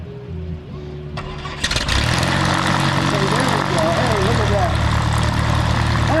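An aircraft engine starts up at the New Garden Airshow, cranking and catching into a steady, loud, droning roar with tonal propeller hum, while someone talks over it.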